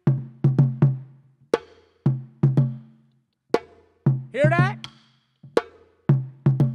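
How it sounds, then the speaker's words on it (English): Tone strokes on a hand drum, played with the fingers held tightly together, give crisp, ringing hits in quick pairs and singles. A voice speaks briefly partway through. "The second rhythm is called a tone."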